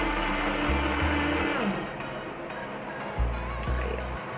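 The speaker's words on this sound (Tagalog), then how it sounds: "malakas talaga yung blender niya" A rechargeable portable fruit blender's motor whirs loudly and steadily, its pitch shifting in bursts as it churns, with a brief pause before it revs up again.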